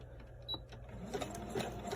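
A home sewing machine stitches a washable fabric medical mask, a short burst of rapid, even mechanical chatter with a brief high whine, close and fairly quiet.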